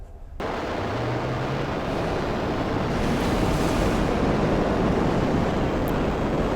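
Stormy wind and crashing waves in GTA Online, a loud continuous roaring rush that starts abruptly and holds steady throughout with no speech.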